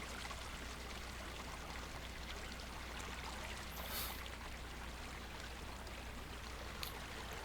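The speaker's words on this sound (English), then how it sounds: "stream actually goes all the way from here to the other side of the little plateau we're on" Soft, steady trickling and rushing of a flowing stream on a small plateau in the game Second Life, a continuous faint wash of water with no voices.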